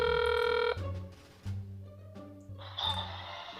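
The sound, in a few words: telephone call ringing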